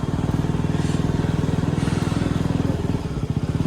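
A motorbike parked at a school polling station idles close by with a steady, throbbing putter throughout, its pulses even and loud.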